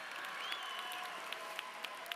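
Applause from a large audience at a high school graduation ceremony in an arts hall, a steady wash of many hands clapping with a few sharper claps standing out, heard from a distance.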